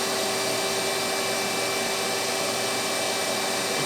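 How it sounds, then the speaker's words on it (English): A vacuum cleaner runs steadily at close range, a constant broadband whine with a high tonal hum and no break, with no one speaking. "you got a vacuum that vacuums it up and does not blow out fine dust"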